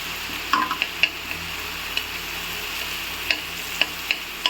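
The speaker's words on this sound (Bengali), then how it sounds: "কালো জিরেটা একটু তেলে ভেজে নেব।" Black cumin seeds fry in a little oil in the middle of a pan of pointed gourd, a soft continuous sizzle broken by several sharp ticks and pops, with no talking.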